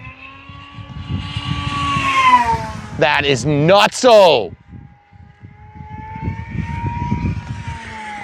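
An FMS P-51 Voodoo V2 RC warbird, 1.1 m, on a 6S battery at full throttle, makes a loud, high whine that sweeps sharply in pitch as it roars past, then fades into the distance while people talk.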